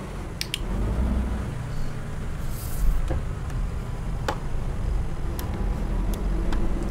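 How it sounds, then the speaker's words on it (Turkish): A Setra 517 HDH TopClass coach in Euro Truck Simulator 2, heard from the driver's seat with the window open: a steady low engine drone runs throughout, with a few sharp clicks and ticks on top. "Camımızı da açtık. Dışarıdan ses biraz daha böyle güzel gelsin diye. Motor sesine baksanıza."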